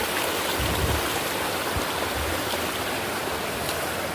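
Water at Chamanu waterfall in Tripura rushes over rocks in a loud, steady, broadband roar, continuous and close throughout with no break.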